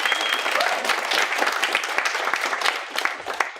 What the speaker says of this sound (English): On behalf of candidate Sophie Warren, please acknowledge Roberto with a clap.